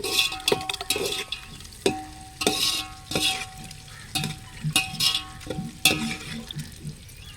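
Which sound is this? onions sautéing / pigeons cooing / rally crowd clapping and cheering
onions sautéing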